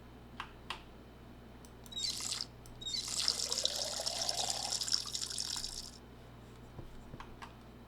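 Water splashes and pours for a few seconds as plants are watered in the video game Schedule I, beginning with short drips, then a steady hissing stream, then stopping, faint clicks around it, no talking.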